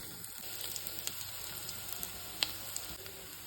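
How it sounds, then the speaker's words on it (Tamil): Ginger and garlic paste frying and being stirred in oil for a pork curry, a soft continuous sizzle with faint crackles and scraping under it, fairly quiet throughout. "வெள்ளைப்பூடு, இஞ்சி இதை இதில் சேர்த்து கிண்டி கொடுக்கணும்"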